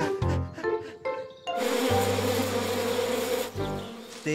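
Dense, steady bee buzzing at a beehive swells up and fills most of the clip, loud and close, after a few brief scraping knocks at the start.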